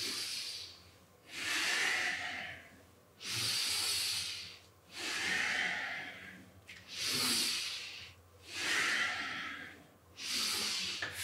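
Rhythmic, forceful breathing during a yoga warm-up, six loud hissing breath cycles in a steady pattern, each lasting about a second with short gaps, close and alone with no talk.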